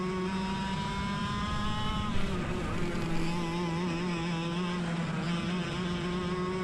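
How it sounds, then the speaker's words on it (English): Race car engine droning at high, steady revs as the driver rolls off the throttle, the pitch easing down and then holding, loud and close, like an onboard recording. "You hear me roll off the throttle there in 3."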